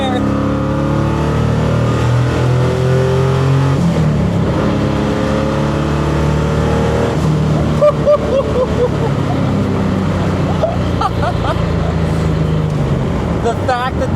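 A Buick Grand National, built in Appleton, Wisconsin, driven hard on the road: a loud, continuous engine note that rises and falls as it accelerates through the gears, rumbling close for the whole stretch with voices talking over it.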